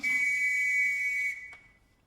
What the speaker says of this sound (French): l'arbitre d'Israël, Abraham Klein, prend son sifflet, le fourre dans sa bouche et siffle le début de la partie.